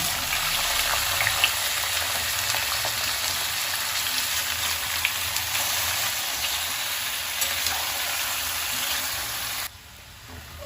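Potato pieces, cut long and washed, frying in hot oil: a dense, even sizzle and crackle that holds steady and fairly loud for about ten seconds, then drops off sharply near the end.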